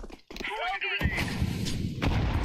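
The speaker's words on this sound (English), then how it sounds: "Throwing a grenade." A grenade explodes in Counter-Strike 2 with a loud, close blast at the one-second mark, then a second boom follows a second later, with a short voice line heard just before.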